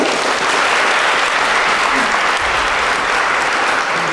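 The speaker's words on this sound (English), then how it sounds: "Please give them a round of applause." Loud, dense applause from an audience at a Grand Rapids Community College talk, a continuous roar of clapping that holds steady throughout.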